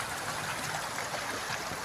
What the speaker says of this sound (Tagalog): Ito pong ilog na ito ay galing po ito sa tinatawag namin bukid sa Mayon